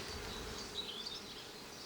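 Honey bees crawl over the hive frames where they have begun capping honey, giving a soft, close buzzing hum that rises briefly in the middle of a short moment.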